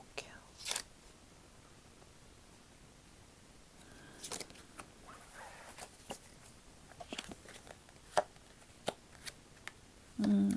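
Tarot cards shuffled and handled in short, soft bursts of riffling and snapping, scattered across an otherwise quiet, close-up stretch, ending with a brief louder rustle.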